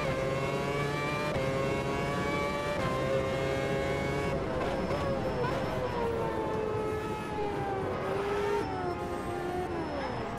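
Formula 1 car engine in the Automobilista 2 racing game around Monaco, a continuous high-pitched whine with rising and falling pitch shifts as gears change, loud and steady throughout with no talk.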